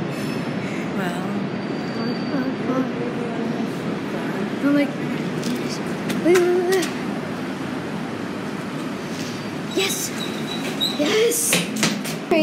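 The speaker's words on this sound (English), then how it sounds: "Train is here." Train rolling past on a freezing morning, with a steady loud rumble, repeated wheel squeals and clattering rail sounds close by, while a person speaks briefly over it.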